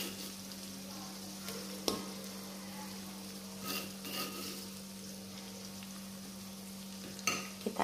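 A ground spice paste frying in a pan for sweet and sour squid gives a quiet, continuous sizzle over a steady hum, with occasional scraping clicks of stirring.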